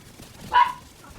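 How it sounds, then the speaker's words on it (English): A single short dog bark or yip rings out clearly and close in a video game arena, then the background goes quiet. "That's Roxy the dog"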